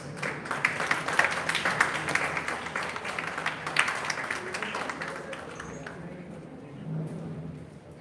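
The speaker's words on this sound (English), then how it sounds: "Give a round of applause." A conference audience gives a round of applause during a felicitation ceremony, a dense moderate clapping that holds steady for about five seconds, then thins and fades out, leaving quiet room tone with a faint murmur.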